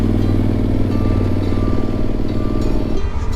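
A hot, heavily loaded motorcycle pulls away on a steep hill: a loud, close engine labours steadily under strain with a low rumbling throb and slight rise in pitch toward the end.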